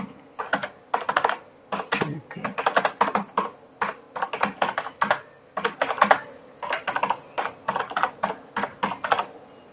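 Rapid bursts of clicking keystrokes on a computer keyboard come in quick irregular runs with short pauses, close and clear with no voices.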